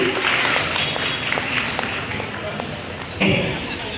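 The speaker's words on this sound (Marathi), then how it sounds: "जोरदार टाळ्या त्यांच्यासाठी" A crowd claps for a second-prize winner at a misal cooking competition in Nashik, with sustained applause running beneath a person speaking.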